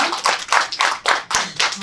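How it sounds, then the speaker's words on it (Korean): An audience at a book launch ceremony applauds: brisk clapping from many hands in quick pulsing waves, close and clear with no talk over it. "우리 박우진 선생님께 박수 한번 보내드리겠습니다"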